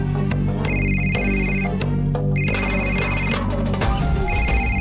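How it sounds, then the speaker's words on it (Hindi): A telephone rings with an incoming call in a Hindi television serial scene, repeated bursts of a bright electronic ringtone, loud and close over a dense music bed. "उस औरत का ही फोन आ रहा है फिर से।"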